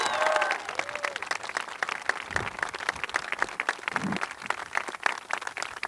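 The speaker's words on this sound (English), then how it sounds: "One more round of applause." Audience applause at a school safety bill signing, a lively crowd clapping steadily with scattered individual claps standing out and some faint voices and cheers mixed in.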